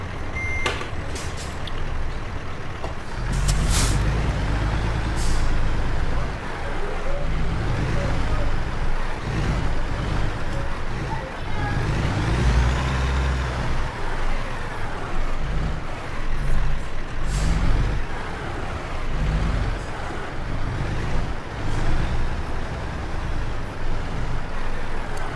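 Semi truck with trailer backing up in a rig-reversing simulator game, a loud continuous engine drone with repeated reversing beeps and occasional air-brake hisses, someone talking throughout.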